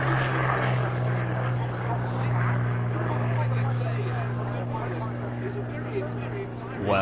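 A Catalina flying boat's propeller engines drone as a steady low hum with a strong tonal throb, held under continuous talking.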